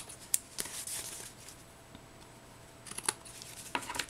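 Scissors trim lace for a handmade Mother's Day card, making crisp, close snipping and rustling bursts at the start and again near the end, with a quieter pause between and no voices.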